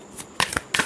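Tarot cards riffle through a shuffle in two quick bursts after a brief first flutter, crisp papery rattling close to the microphone with no one speaking.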